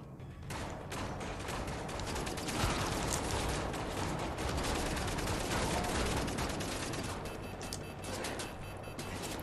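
Turret gunfire in the first-person shooter Wolfenstein: The New Order forms a dense, continuous roar of rapid automatic shots that stays loud throughout.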